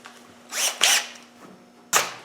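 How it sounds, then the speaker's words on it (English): A drill bores holes into an aluminium seat box on a Land Rover 109 repair, giving three short whirring bursts separated by pauses over a steady low hum. "drill the holes"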